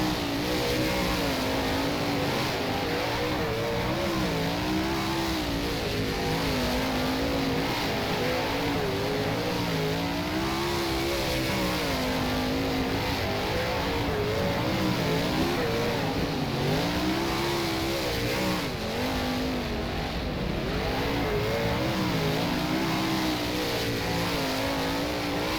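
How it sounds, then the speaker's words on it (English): A 410 sprint car in rFactor at Premier Speedway Warrnambool roars steadily through a pack of AI cars, its engine note rising and falling through the laps with no pause, loud and close throughout. "We'll start at the back in the Big Ant Studios 410 sprint car."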